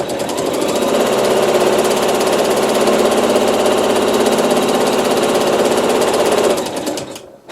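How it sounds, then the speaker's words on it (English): An MQ15 embroidery machine stitches a tack-down line, a fast, steady mechanical rattling hum at close range that runs continuously for several seconds before winding down and stopping. "And then we're going to sew the tack down."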